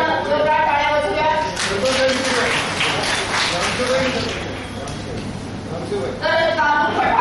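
A hall audience at a save-the-girl-child workshop claps together, a dense continuous patter of hands under a voice talking over it.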